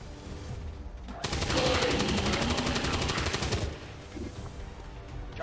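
Gunfire rattles in XCOM 2 as a fast, dense burst lasting over two seconds, loud and close, preceded and followed by quieter game ambience.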